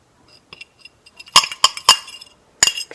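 Metal fork clinking against a bowl while mixing pancit canton noodles, a few faint taps followed by several bright, sharp clinks in an uneven rhythm, close and otherwise quiet.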